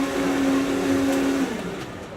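A 2.5-liter Catering Depot blender making a paste at a Manila food and hotel expo cooking demo, a loud steady motor whine that drops in pitch partway through and keeps running over a noisy hall.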